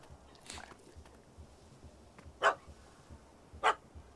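A dog barks sharply twice at a cat in The Witcher 3 game, the distinct barks spaced about a second apart over quiet ambience, with a fainter bark heard earlier.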